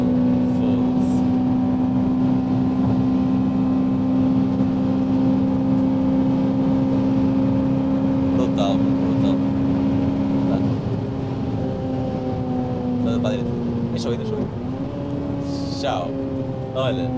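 A Honda Civic Type R FN2 with a K20 engine rumbles close by with a steady, droning exhaust note that dips in pitch a couple of times, while people talk over it.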